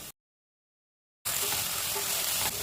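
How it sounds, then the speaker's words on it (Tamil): Ginger garlic paste sizzling with onions in a hot pan, a dense, steady frying hiss that starts abruptly after a moment of silence and carries on close and loud without talk. "இப்போ வந்து கொஞ்சமாக வந்து நம்ம இஞ்சி பூண்டு பேஸ்ட் போடலாம்."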